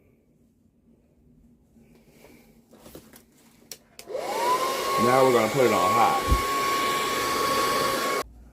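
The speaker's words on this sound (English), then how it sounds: "Tie it down and hit it with this blow dryer." A handheld blow dryer switches on partway through and runs loud and steady while drying hair with hairspray, its whine wavering as it moves, after a quieter stretch of handling noise and a brief spoken line.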